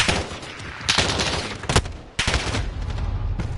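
Rapid gunfire in a first-person shooter video game, loud and close, with sustained bursts broken by a short pause and a few sharper reports standing out.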